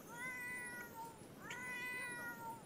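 Cartoonish cats in The Sims 4 life-simulation game meow repeatedly, two rising-falling calls close and clear over a faint ambient game background, with no talking.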